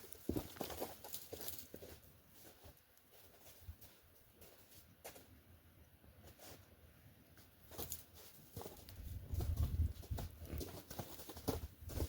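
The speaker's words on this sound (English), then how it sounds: "my horse just got loose" A loose horse on a trail wanders at a walk, its hooves clip-clopping faintly and irregularly at a distance, with the steps growing louder and more frequent toward the end.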